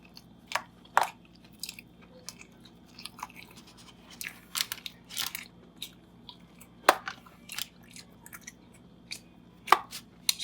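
Crunchy bites and chewing on an On-Cor rib-shaped patty sandwich with onions and bread-and-butter pickles, close to the mic: sharp bite crunches scattered over about ten seconds with softer chewing between them, and no talking.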